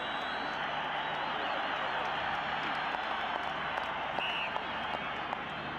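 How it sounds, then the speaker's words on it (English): A stadium crowd at a 1996 All Blacks versus South Africa rugby test in Pretoria roars in sustained cheering and applause, a dense, distant, even wall of sound that holds steady throughout. "Tremendous cheer as Wayne Fyvie gets a Springbok Test cap"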